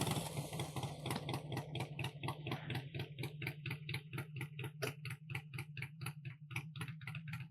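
Motorcycle engine idling and ticking as a learner rider eases out the clutch, a steady low rumble with a rapid, even mechanical ticking that persists throughout, close and fairly quiet, with no talk.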